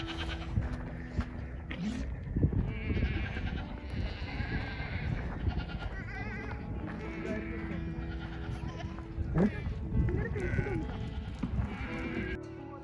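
Several goats bleat repeatedly at varying distances, some calls overlapping, amid steady farmyard background noise at a goat farm in Al Hariq, near Riyadh, Saudi Arabia.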